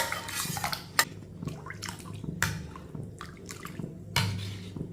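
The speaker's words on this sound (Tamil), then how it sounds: "பருப்புடைய தண்ணி எடுத்து ஊற்றிக்கிடுவோம்" Lentil cooking water is poured into a pot while making a weight-loss soup, heard as close, intermittent splashing and dripping with light clinks of metal cookware and no talking.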